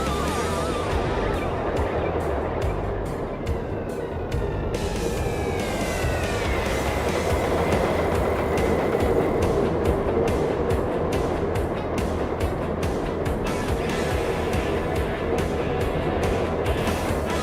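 A roller coaster train in Planet Coaster 2 rolls along the track with a steady, loud rumble and rhythmic clicking, layered under game music, with no speech.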